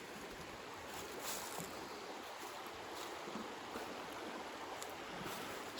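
Salmon Creek, a trout stream in the Allegheny National Forest, flows steadily past a small island with a broad, continuous rushing hiss, moderately close and unbroken, with no voices.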